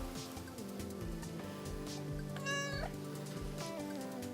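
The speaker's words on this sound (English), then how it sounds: "I don't know if you can hear the cat. My nephew's cat has come to visit, and he's whiny." A whiny visiting house cat meows near the microphone, one drawn-out rising and falling cry in the middle, with a faint low indoor hum underneath.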